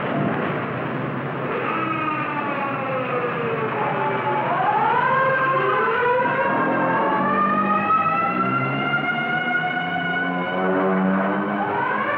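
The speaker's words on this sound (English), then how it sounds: "the banshee wail of the siren echoes the warning" Civil defense air raid siren wailing over a city, rising and falling in long sweeps with echoing overlapping tones, loud and continuous.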